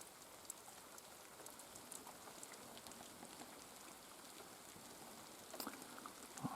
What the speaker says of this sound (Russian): вон, капает, видите.